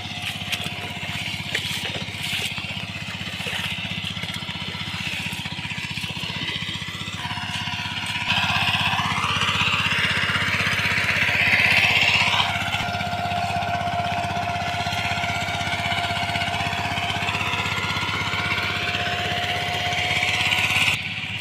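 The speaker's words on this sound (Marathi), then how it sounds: "लोक ट्रॅक्टरने लावणी करतायत" A tractor engine churns a muddy paddy field for rice planting on Konkan farmland, a steady droning rumble running throughout and growing louder partway through, with no voices.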